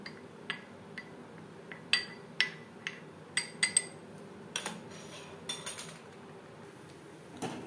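A spoon stirs vanilla custard powder into milk in a bowl, giving sharp irregular clinks and scrapes against the dish at close range with no talking.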